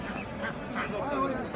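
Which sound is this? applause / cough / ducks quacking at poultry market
ducks quacking at poultry market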